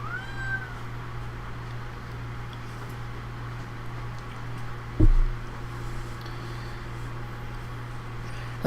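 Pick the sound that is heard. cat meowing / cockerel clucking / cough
cat meowing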